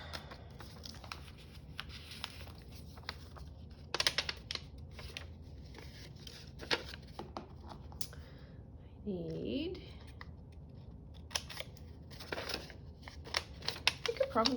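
Paper being cut with scissors for a craft journal produces quiet, close snips and papery rustles in irregular clusters, with a soft voice speaking briefly partway through.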